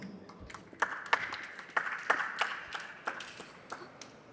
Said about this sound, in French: Je veux nommer Samira sur vos applaudissements.